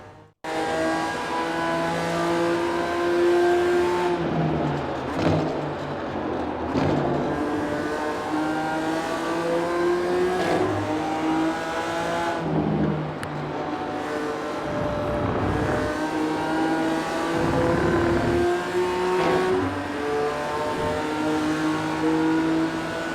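BMW M4 G82 GT4 race car in the iRacing simulator at Okayama circuit, a loud continuous exhaust note rising and falling through gear changes and revs, heard alone without talk.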